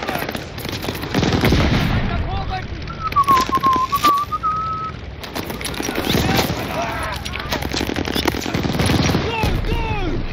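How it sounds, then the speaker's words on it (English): Gunfire in the video game Call of Duty Vanguard: loud rattling bursts of shots come in clusters, with a whistling tone in the middle and voices briefly heard among the shooting. "Who's shooting me?"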